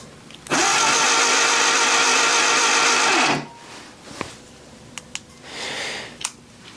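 Willys engine from a junkyard cranking over on the starter with ignition being checked, a steady loud whirring crank lasting about three seconds before stopping, followed by faint clicks and quiet rustle.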